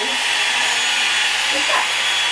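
A handheld hair dryer blows steadily on a section of hair during an at-home salon blowout, a loud continuous whirring rush close to the microphone.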